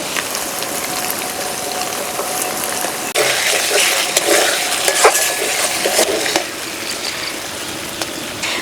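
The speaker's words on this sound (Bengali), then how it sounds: "ধনে, জিরে, কাঁচা লঙ্কা বাটা, সব কিছু একটুখানি নাড়াচাড়া করে নিলাম" Spoon stirring ground coriander, cumin and green chilli paste as it fries in a pan, a sizzle that turns louder and busier partway through, with scraping clinks over the hiss.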